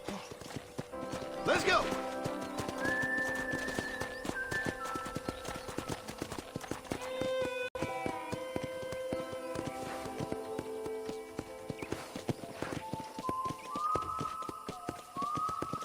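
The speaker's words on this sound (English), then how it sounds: "let's see if you can still ride a horse" Horse hooves clip-clopping in the Red Dead Redemption video game, steady rhythmic hoofbeats with a whinny early on, under game dialogue and a shouted call, with music tones drifting in.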